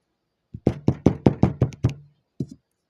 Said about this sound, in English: he gets there in 20 minutes and he knocks on the door.